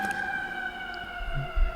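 An emergency vehicle siren in the middle of New York holds a loud, steady wailing tone over low city rumble, ending with a heavier thump of traffic.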